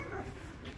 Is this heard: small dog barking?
yes